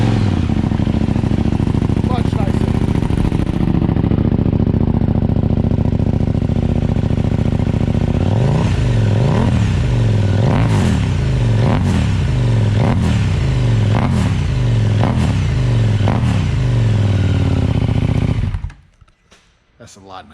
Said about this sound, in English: I guess we should probably hear what this thing sounds like.